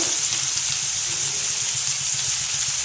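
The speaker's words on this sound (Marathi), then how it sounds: "असा हा गुलाबी रंगावर कांदा परतून झाला आहे" Finely chopped onion sautés in hot oil with asafoetida in a pan, a steady close sizzle and hiss running evenly throughout with no talk.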